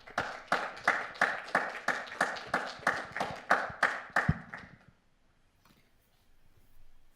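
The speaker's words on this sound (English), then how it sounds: "a warm applause" Applause after a conference talk, about twelve evenly spaced loud claps in steady rhythm, then abrupt quiet with faint room noise.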